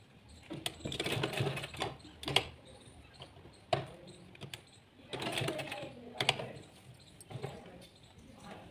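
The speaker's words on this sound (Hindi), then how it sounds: "तो कुछ इस तरीके से स्टिचिंग लगाते जाना है।" A sewing machine stitches sleeveless blouse fabric in short runs of rapid, faint mechanical clatter, broken by brief pauses and sharp clicks, fairly close.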